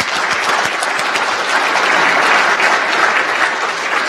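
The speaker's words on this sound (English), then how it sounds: "Can we have a round of applause?" A conference audience at the MIT Bitcoin Expo gives the panelists a round of applause, a loud, dense and sustained clapping from a large room that holds steady throughout, with no speech over it.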